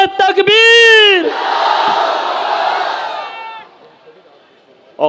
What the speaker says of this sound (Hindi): आइए फिर एक मर्तबा जोरदार नारा लगाते गए, नारे तकबीर